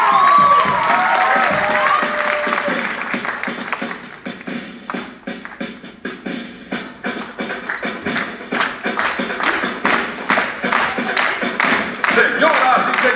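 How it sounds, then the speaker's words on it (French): A live crowd at a stage show applauds a performer, dense clapping building into rhythmic claps with cheers and shouts mixed in, starting over a voice and brief music. "On l'applaudit très fort."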